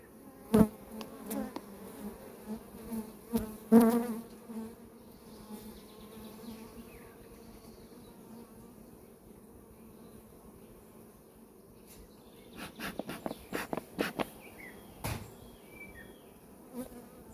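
Honeybees on a hive frame hum in a steady low drone, close up, punctuated by a few sharp knocks and clicks.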